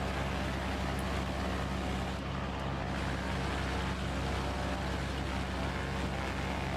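Loud, constant droning engine noise with a steady throb, heard from inside the cabin of a Mooney light aircraft, unbroken throughout.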